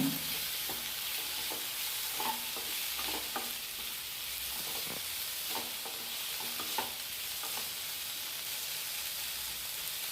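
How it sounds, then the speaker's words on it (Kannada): Chopped tomatoes and green chilies sizzle with colocasia (taro root) in a frying pan, a steady hiss broken by a spoon scraping and stirring at irregular intervals, with no voices. "ಈಗ ಟೊಮೆಟೊವನ್ನು ಹಾಕ್ಕೊಳ್ತಾ ಇದ್ದೇನೆ"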